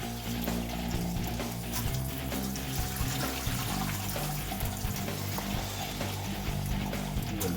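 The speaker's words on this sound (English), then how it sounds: "Rinse it off." Gold nuggets are rinsed under a running stream of water, a steady close splashing and gushing that holds even throughout, with no voices.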